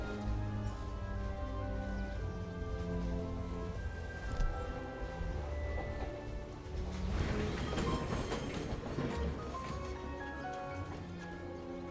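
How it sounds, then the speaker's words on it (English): A small tram rolls along in the game Syberia: The World Before, a continuous mechanical rumble with tonal hums and rattling clatter that swells louder partway through, heard without any voices. "That's a cool little tram."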